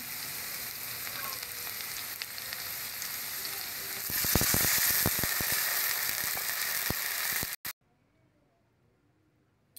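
Potatoes frying in a pan for a fish curry with taro and eggplant give a steady sizzle, then water poured in makes a louder hissing surge with scraping clicks before the sound cuts off abruptly.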